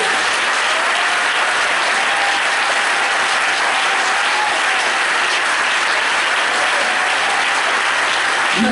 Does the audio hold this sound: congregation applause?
yes